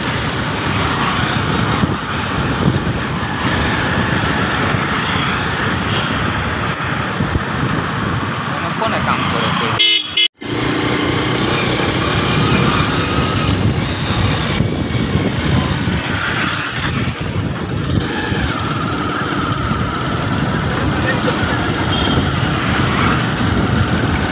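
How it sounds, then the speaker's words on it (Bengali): A busy local street in Sylhet city at night, with a dense, steady wash of passing traffic close by, a brief dropout midway, and a faint tonal honk or two rising above the roar. "এটা হচ্ছে রাতের লোকাল রাস্তা।"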